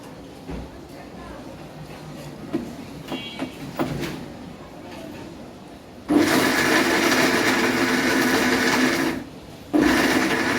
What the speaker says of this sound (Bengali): তো আজকে আমি 2 কেজি আদা আর 2 কেজি রসুন ব্লেন্ড করতেছি